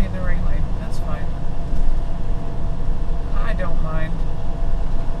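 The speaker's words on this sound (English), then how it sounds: "It feels really weird to be driving a truck through Hopewell." A truck drives through historic downtown Hopewell, its steady low engine rumble and road noise running throughout with a person talking over it.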